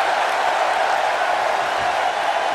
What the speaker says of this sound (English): the crowd's on the edge of their seats.